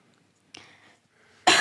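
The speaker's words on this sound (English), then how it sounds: "I copied you coughing there" A single short cough rings out, followed by a quieter trailing breath and a sharp louder burst at the end.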